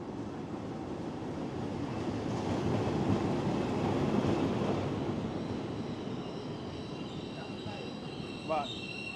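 A train on the Jaffna to Vavuniya line rolls into a station with a broad, steady rumble that swells and eases, then a brief metallic wheel squeal. Voices murmur faintly in the background.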